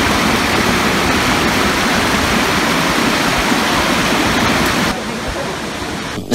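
A hillside waterfall near Harishankar roars in a dense, continuous rush of falling water, steady and close, before dropping slightly quieter toward the end.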